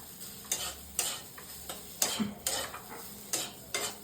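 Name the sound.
chow mein being stirred and heated in a pan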